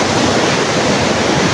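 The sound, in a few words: strong ocean waves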